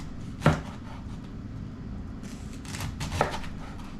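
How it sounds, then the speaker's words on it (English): A knife slices cabbage into thin shreds on a cutting board, two sharp chopping strikes standing out above a low, steady shuffling rasp from the cutting, with no talk. "We are chopping into shreds"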